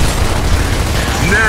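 A propane tank explodes in Gears of War Ultimate Edition as a loud, low, rumbling boom that stays heavy and sustained for over a second.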